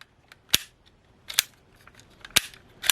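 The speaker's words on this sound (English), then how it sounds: "if you press down on his horn here, the back horn, His front horn will shoot forward. It's spring-loaded." The spring-loaded front horn on a Power Rangers Wild Force Isis Megazord toy fires forward with sharp plastic snaps, four distinct loud clicks spaced about a second apart, close and isolated with faint handling noise between.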